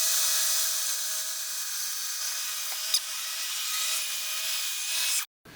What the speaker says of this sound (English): we're going to be cutting that out of 1/4 inch plywood